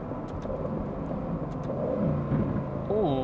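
An Aston Martin Vantage twin-turbo V8 sports car, 503 horsepower and rear-wheel drive, drones steadily up close, with a rising rev sweep near the end and faint talk in the background.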